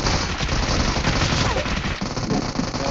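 Dense, continuous automatic gunfire in a shooter video game, rapid shots blending into a loud sustained fusillade with no pauses.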